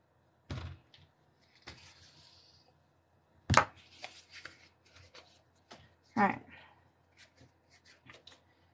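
Sandpaper lightly scuffing the backs of engraved pieces: a few short, dry rasping strokes spaced seconds apart, close and fairly quiet, with soft handling clatter between them.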